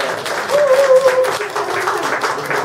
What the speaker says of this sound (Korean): 박수 한번 보내드립시다